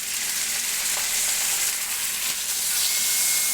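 Beef sears in a smoking-hot pan, a loud, steady sizzle and crackle of fat and juices that runs continuously and close up with no talking.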